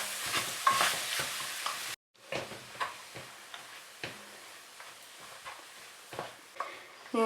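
Mashed potato vegetable stuffing stirred in a pan for veg puffs, with repeated soft spatula scrapes and taps at an even pace over a faint background hiss after a brief break.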